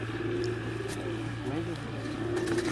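A flock of pigeons coos in a low continuous murmur on a Sialkot rooftop, with a faint distant car-like hum and possible low voices in the background.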